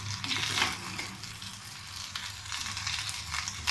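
Capsicum and carrot stir-fry in a pan for chicken vegetable fried rice, with a steady close sizzle and occasional stirring scrapes, even in loudness throughout, no voices.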